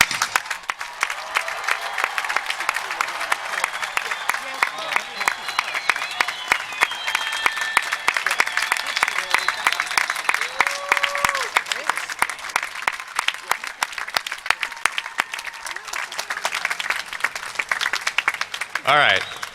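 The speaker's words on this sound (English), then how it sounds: "rise as a body so we can give you a thunderous round of applause" Graduating Class of 2017 at Longwood University's undergraduate commencement receives a long, sustained round of applause from a large crowd, dense and steady, with cheers and voices mixed in before it stops abruptly at the end.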